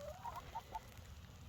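A few faint, soft clucks from chickens crowded into a coop, scattered over a quiet background with a low rumble.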